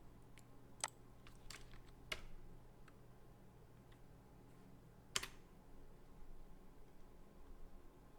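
Keystrokes on a computer keyboard while searches are typed in, heard as a few sparse, quiet clicks and taps spread across a low steady hum, with no talking.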